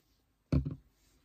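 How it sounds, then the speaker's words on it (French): A glue bottle cap is closed with one brief, close plastic snap and rustle in a quiet room during scrapbooking. "On va refermer la colle."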